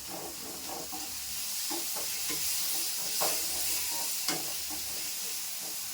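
Pakodi curry bubbles and sizzles in a pan on the stove, a continuous close hiss of frying with occasional stirring clinks and pops.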